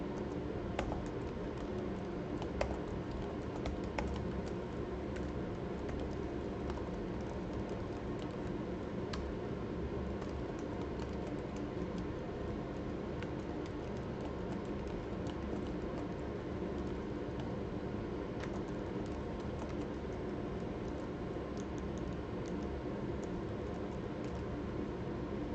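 Typing on a novelty computer keyboard, a steady patter of quick key clicks running continuously at moderate level over a low background hum.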